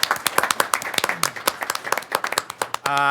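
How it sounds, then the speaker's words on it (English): Scattered clapping from a small group at a city council meeting honoring a student, with distinct individual claps rather than a full roar, ending abruptly. "let's give him a round of applause anyway"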